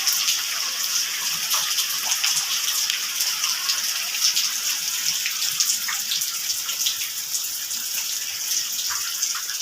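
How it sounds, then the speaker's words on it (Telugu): Steady rain falls outside a house, a dense continuous hiss with scattered drop patters, even and fairly close, with no talking. "బయట వర్షం చూడండి ఎలా పడుతుందో ఫ్రెండ్స్"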